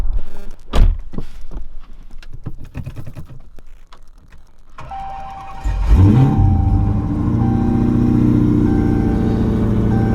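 A Dodge Hellcat Charger with a swapped 6-speed manual cranks and fires up, with clicks and door thunks beforehand, then settles into a loud, steady rumbling idle as it warms up close by.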